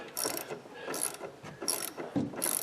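A ratchet wrench loosening a long bolt during battery replacement on a 2019 Ford Edge: close, repeated clicking ratchet strokes in a steady rhythm, about four bursts. No one talks.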